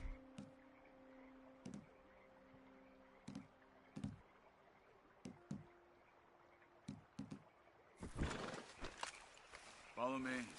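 Horses in Red Dead Redemption 2 snort and whinny now and then, with scattered hoof clops over a low ambient hum, and a louder flurry of movement and a snort near the end.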